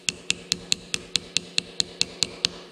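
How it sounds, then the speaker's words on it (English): Twelve crisp, evenly spaced taps ring out on the pin of a Christen drill grinder during a restoration, each a sharp metallic tick at a steady quick rhythm, close and clear with no talking. "if you come in right on top of this pin back here and give it a little tappy"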